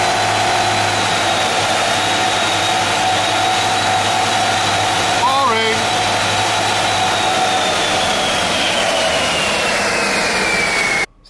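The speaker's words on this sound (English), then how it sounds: "So that was the foot flat down on the dyno there, restricted to about 70 mile an hour." A VW T5 2.0 TDI van's diesel engine held at full throttle on a dyno, limited to about 70 mph: a loud, continuous roar with a steady high whine that drifts slowly downward, then cuts off abruptly at the end.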